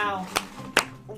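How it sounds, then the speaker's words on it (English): Three sharp hand claps, close by and evenly spaced, mark a round of applause at a children's Christmas unwrapping challenge at home. "Everybody, round of applause, Jagger."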